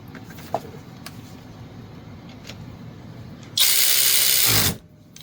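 A cordless power ratchet wrench whirs near and loud for about a second as it screws down a jam nut, after a few faint clicks and handling noises in a quiet room.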